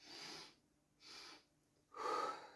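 Three slow, breathy inhalations drawn in through the nose during a guided heart-shaped breathing exercise, each soft hiss separated by brief quiet, the last slightly louder and fuller.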